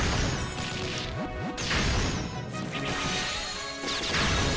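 Battle sound effects for the character Kuma's attack animation in the mobile game One Piece Treasure Cruise: loud crashing impacts layered with whooshing swipes and sweeping tones, several hits in quick succession.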